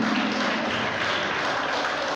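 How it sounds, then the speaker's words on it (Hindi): Audience applause welcoming the principal at a school ceremony, a steady, moderately loud wash of many people clapping at some distance, continuous throughout and cutting off abruptly at the end. "भरपूर तालियां होनी चाहिए"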